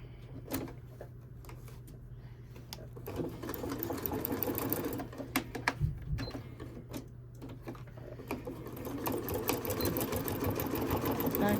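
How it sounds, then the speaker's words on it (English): Sewing machine stitching fabric for an oven dress towel, a back stitch run in short mechanical bursts with a steady motor hum, broken by pauses and clicks, the machine close and moderately loud. "we will give that a back stitch"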